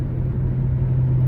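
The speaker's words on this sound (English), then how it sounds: "loud freaking car." A loud car rumbles past outside, a steady low engine drone that swells slightly through the short moment with no talking.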